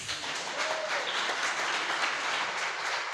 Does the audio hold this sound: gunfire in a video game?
no